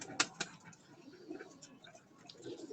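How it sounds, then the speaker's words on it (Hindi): A pigeon on a rooftop loft coos softly and faintly, low murmuring calls with a couple of sharp clicks early on, quiet and close. "ये भी काफी पुराना कबूतर है,"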